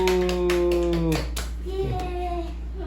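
A group at a church summer camp claps in a short burst of hand claps, several sharp strikes close together, with children's voices and a sustained musical tone fading out beneath.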